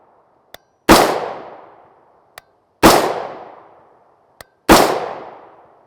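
Three sharp 5.56x45mm rifle shots firing 55gr FMJ Armscor ammunition, evenly spaced about two seconds apart, each a loud crack with a long decaying tail, each preceded by a faint click.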